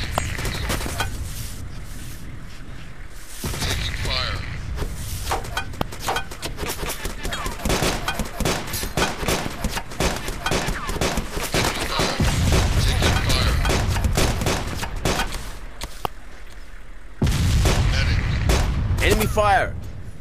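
Dense, sustained gunfire with rapid machine-gun bursts, single shots and occasional heavy booms in a realistic war video game battle, loud and continuous throughout, with player voices shouting over the chaos.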